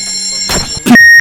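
An alarm clock rings loudly and close in a short electronic burst, then a sharp thunk cuts it off, as if the clock is struck or silenced.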